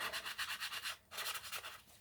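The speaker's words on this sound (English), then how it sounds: "sand it down." Rhythmic back-and-forth rubbing of a sanding block on paper, close and fairly quiet, about eight quick strokes with a brief pause midway.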